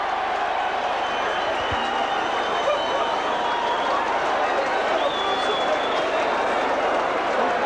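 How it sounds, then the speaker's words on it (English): A rugby league stadium crowd of Castleford and St Helens supporters roars in a broad, sustained wash of cheering and booing, heard at a distance while a commentator talks over it. "plenty of cheering from the Castleford section and booing from the Saints section"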